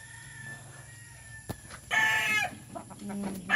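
A brood cock and hens in a rural yard: soft clucking and scratchy calls, then louder bursts of crowing and squawks, close by and without talk.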